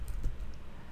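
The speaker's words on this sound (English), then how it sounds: "once you type the word developers, type .facebook.com." A web address typed into a browser's address bar on a computer keyboard, a quick burst of a few soft key taps close by against low room noise, lasting about a second with no speech.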